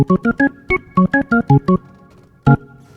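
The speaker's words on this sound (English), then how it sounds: "going to turn the Leslie fast on." Short Hammond SK Pro organ chords played through a fast-spinning Leslie speaker in quick staccato bursts with a wavering, swirling tone, then a pause and one final stab.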